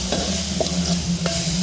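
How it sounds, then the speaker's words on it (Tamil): Beetroot sizzles with salt in a frying pan as a spoon stirs it, giving a steady close sizzle broken by a few short scraping stirs. "உப்பு சேர்ந்த ஒரு நிமிஷம் எங்களுக்கு அப்படியே வறுபடட்டுங்க."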